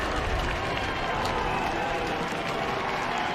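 A Harvard crowd roars after a goal in a Harvard versus Yale college lacrosse game, a dense, sustained wash of cheering and clapping that holds steady throughout.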